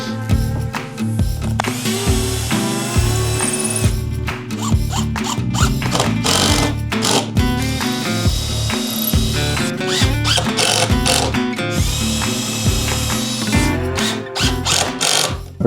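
A power drill bores pilot holes and countersinks into plywood, whining in repeated short bursts with pauses between, close and loud throughout.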